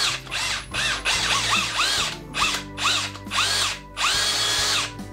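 A Parkside Performance 20V brushless cordless drill whines up and down through speed changes in several close, loud bursts separated by short pauses, with ratcheting clutch clicks between runs.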